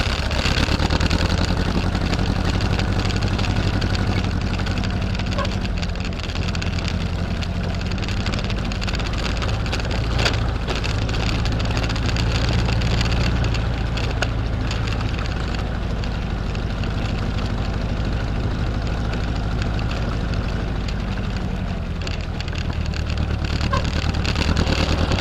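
A Jeep M38A1 engine runs steadily at idle during a tune-up, a continuous low rumble held close and loud for the whole stretch with no talking.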